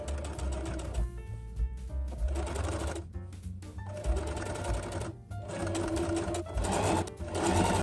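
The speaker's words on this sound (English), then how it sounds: "Now I'm just gonna flip this seam this way and sew over on this side." A sewing machine stitches a shirt seam in close, rapid whirring bursts that stop and restart several times, with no talking.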